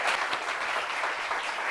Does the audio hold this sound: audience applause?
yes